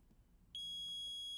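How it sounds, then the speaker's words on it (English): A multimeter's single high, continuous continuity-test beep cuts in abruptly over quiet background and holds steady to the end, probing a shorted MSI B550M PRO VDH WIFI motherboard. "you can hear the beep when I'm testing it"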